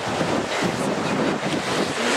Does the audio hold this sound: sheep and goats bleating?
no